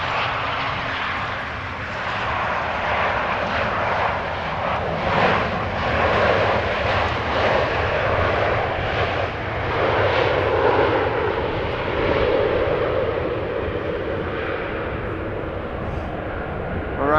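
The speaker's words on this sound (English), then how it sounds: "German Airways Embraer 190 flying for KLM, arriving from Stuttgart" A German Airways Embraer 190 airliner flying for KLM arrives at Amsterdam Schiphol Airport, its jet engines a steady broad roar that swells slightly and holds loud throughout with no talk.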